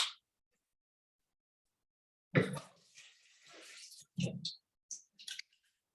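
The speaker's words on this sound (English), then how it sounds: "so now the water is drained down" Water drains from a Samadhi Living Water machine being taken apart for cleaning. After a long silence come close, intermittent splashes and gurgles, then a few brief trickles and clicks.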